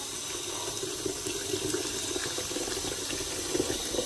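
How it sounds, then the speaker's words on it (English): Cold tap water runs steadily into a kettle, a continuous hissing rush with a slight gurgle, close by and without speech. "now I'm going to fill this up with some tap water."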